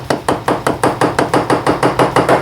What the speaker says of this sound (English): I'm going to have to use a dead blow hammer, I think, because it sits there pretty damn tight